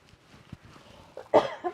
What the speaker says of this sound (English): I wasn't expecting to cough